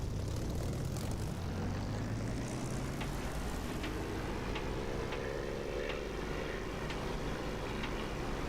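A propeller aircraft engine in the flight simulator DCS throttles up, a loud, steady drone whose pitch rises gradually over constant engine noise.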